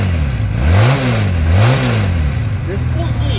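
A Honda Hawk motorcycle engine revs up and down twice in quick succession with a mellow, subdued tone, then settles back to a steady idle, loud and close.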